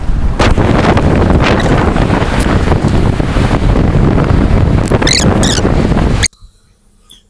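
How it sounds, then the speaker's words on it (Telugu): Strong wind buffets the microphone on Rushikonda beach, a loud, steady roar with faint surf beneath it that lasts about six seconds before cutting off abruptly into near silence. "పొయ్యి ఎక్కడ పెడదామన్నా అస్సలు గాలి ఆగట్లేదు"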